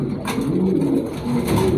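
Pet pigeons of a Bagha line coo steadily and close by, with low, repeated throaty calls running through the whole stretch at moderate loudness and no talking.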